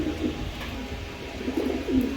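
Pigeons of the Afsan Girizi breed, a high-quality pair with one sitting on eggs, give soft, low repeated coos close by over a steady background hum, with no talk.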